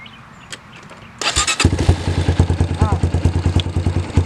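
Dirt bike engine starts after a quiet moment, then runs at a rough, pulsing idle with rapid loud thumping firing close by, with faint voices before it catches.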